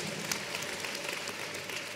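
Church congregation clapping together in steady, dense applause, sustained and fairly loud throughout with no voices standing out.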